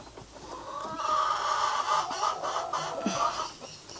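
Farm chickens clucking together at close range, a busy overlapping chorus of clucks and murmurs that swells in the middle and stays steady throughout, with no clear talking.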